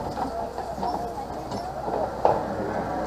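A safari vehicle at Animal Kingdom's Kilimanjaro Safari rolls over a rickety bridge, giving a continuous rumbling, creaking rattle with scattered clunks and one sharper knock, steady and fairly close.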